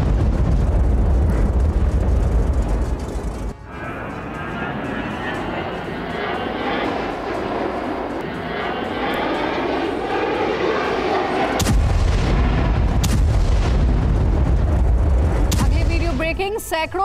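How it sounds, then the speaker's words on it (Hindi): Russian SU-34 bombers roar loudly overhead in a sustained jet rumble, broken by heavy booming blasts from dropped FAB-500 unguided bombs on Ukrainian positions, with a sharp loud burst near the end. "रूस के एटमी क्षमता वाले SU-34 बॉम्बर्स ने स्ट्राइक किए यूक्रेन के ठिकानों पर। Fab-500 अनगाइडेड हवाई बॉम्ब दागे गए।"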